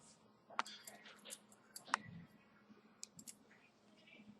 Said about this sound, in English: And that's what your scissors for, just to trim it off a little.